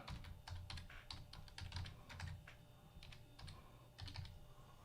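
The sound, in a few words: typing a password on a computer keyboard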